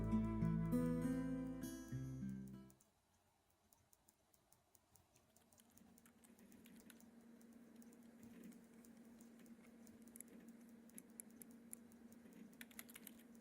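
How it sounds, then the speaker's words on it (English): A computer keyboard gets typed on with light, scattered clicks, quiet at first and then building into a steady patter over a faint background hum, after a loud musical passage cuts off. "Oh, it's a keyboard."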